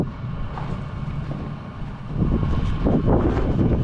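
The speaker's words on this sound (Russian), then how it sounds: "Ветер такой на улице." Wind blowing outside at about 8 degrees gives a steady, rushing roar buffeting the microphone, rising and growing gustier and stronger partway through, with no voices heard.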